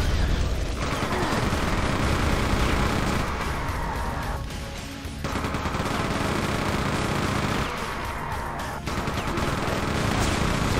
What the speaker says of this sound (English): Let's get the chain gun out.